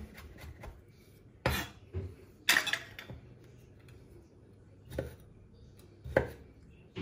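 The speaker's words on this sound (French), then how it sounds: "Pareil pour les cornichons, on les coupe finement." A knife finely chops shallots and cornichons on a cutting board, giving sparse, irregular sharp thuds and taps close by against a quiet background, with no talking.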